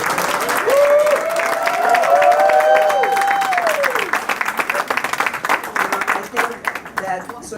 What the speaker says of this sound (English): if we didn't start with a big round of applause for the guy with the bow tie